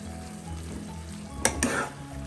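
Spice masala with coriander powder fries in oil for a fish biryani, a moderate steady sizzle with two brief sharper bursts of stirring in the pan.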